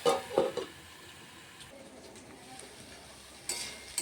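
Water spinach (kolmi greens) is fried and stirred in a pan: brief spatula scrapes at the start and again near the end over a faint, steady sizzle.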